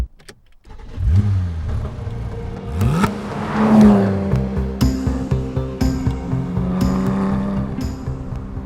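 A Porsche 911 GT3 with its 4-litre flat-six engine, heard from close by, cranking to life, then blipping and revving repeatedly in sharp bursts over a throbbing idle.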